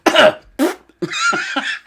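A voice imitating coughing: a short burst, then a second hack, followed by a rougher, drawn-out wheezy sound with a few pulsing bursts.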